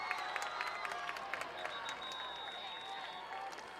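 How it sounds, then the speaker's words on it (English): Student section at a high school varsity football game between Oregon and Edgewood cheers and claps from a distance, a continuous mix of applause and shouting with scattered sharp claps, while a commentator speaks over it. "The big cheer came out."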